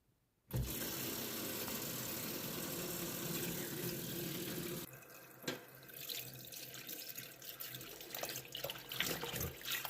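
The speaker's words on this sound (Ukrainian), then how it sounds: "Заливаю щавель холодною водою." Cold water gushes steadily from a tap over sorrel leaves in a sink for several seconds, then eases into quieter splashing and rinsing with small knocks.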